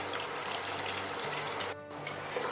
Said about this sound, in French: je vais mettre de l'eau à hauteur